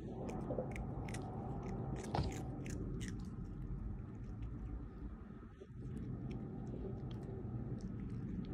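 A cat biting and chewing saltine crackers, with soft irregular crunches and chewing close by over a steady low background rumble, no talking.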